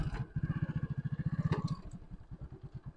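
A motorcycle is ridden around in a circle, its engine putting out a steady low, rapid pulsing thrum with slight rattles, fairly close and moderately loud, easing a little toward the end.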